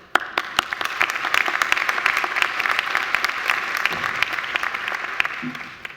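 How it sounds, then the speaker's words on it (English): A large graduation ceremony audience applauds, sustained crowd clapping with a few sharp individual claps standing out nearby, steady throughout and trailing off at the very end. "Please give yourself a round of applause."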